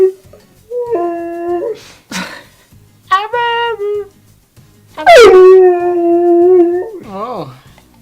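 A husky howls in long, wavering, rising and falling calls in three bursts, close and loud, with short yips and whimpers in between and quiet human voices around it.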